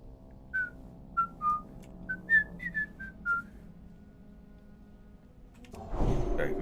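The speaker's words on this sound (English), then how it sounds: "Sorry, my whistling probably doesn't come through the microphone." A person whistles a simple tune of about a dozen short, clear notes. The whistling stops before a dull thump and a burst of rumbling noise near the end.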